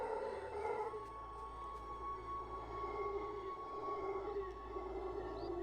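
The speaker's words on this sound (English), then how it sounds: "howler monkey is thought to produce the loudest call of any land animal" A howler monkey's deep, drawn-out howl, a steady droning call held over a low background hum, moderately loud and unbroken.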